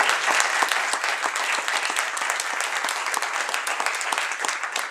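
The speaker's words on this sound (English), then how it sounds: "we need a wild round of applause on tape now" An audience breaks into a wild round of applause at a technical talk, dense rapid clapping that stays loud and steady throughout without any voices over it.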